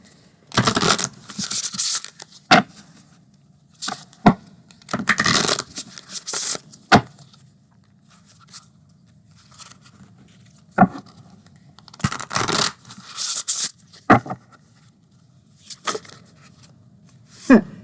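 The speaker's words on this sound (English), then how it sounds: "I find these to shuffle quite nicely" Earth & Bone oracle cards being shuffled by hand, heard as repeated bursts of papery riffling and scraping separated by brief pauses, close and fairly loud, with no talking.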